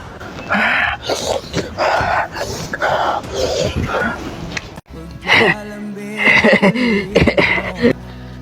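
A dog growls and barks in rough bursts, close and loud, with voices talking around and between the noises.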